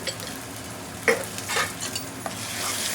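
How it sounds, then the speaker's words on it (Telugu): Chicken is stirred with turmeric, chili powder and coriander powder for kadai chicken, a continuous sizzle from the pan broken by a few sharp clinks and scrapes of a spoon against the metal, with no talking. "మొత్తం మిక్స్ అయ్యేటట్టు కలపాలి"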